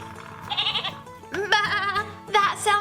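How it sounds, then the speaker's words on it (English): A goat bleats three times in a farm-animal lesson for preschoolers. The bleats are loud, close and wavering, with short pauses between them. "What does the goat say?"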